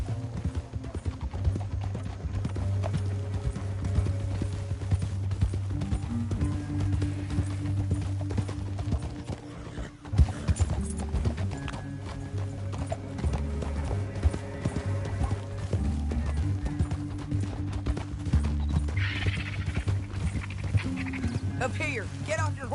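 Horse hooves clip-clop steadily in Red Dead Redemption 2, a continuous rhythmic trot running the whole stretch beneath game music, with a dog panting and whimpering and brief talk mixed in.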